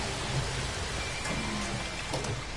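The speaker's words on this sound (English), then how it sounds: "the storm is not over" Steady storm rain in a sci-fi survival video game hisses loudly and continuously, with faint low rumbles underneath and no voices.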